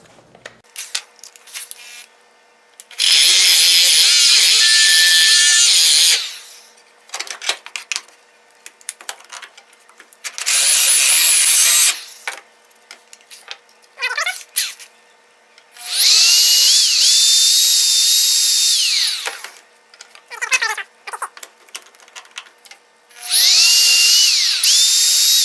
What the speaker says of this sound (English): So I'm going to drill both of those out now.